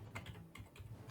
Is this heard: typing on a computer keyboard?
yes